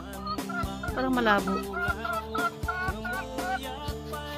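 Free-roaming farm hens in rural La Union give a series of short, throaty clucks and squawks close by, with a voice talking over them throughout.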